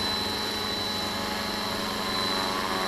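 A helicopter with badly tracked rotor blades runs at steady RPM, a loud, continuous, dense engine and rotor roar close by with a constant shaking drone and no talking.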